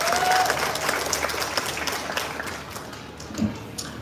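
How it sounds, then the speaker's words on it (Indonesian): Crowd applause from residents gathered at a groundbreaking ceremony for the Kampung Susun Bayam housing in Jakarta, a sustained clapping wash that fades gradually toward the end. "Tepuk tangan buat semuanya."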